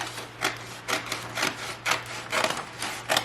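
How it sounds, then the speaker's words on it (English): Cutting along the top of a decor transfer on a chalk-painted blanket chest, heard as a series of short scraping, rubbing strokes that come in repeated bursts at close range, with no talking. "I think I'm going to just trim off the top and allow it to just be cut off."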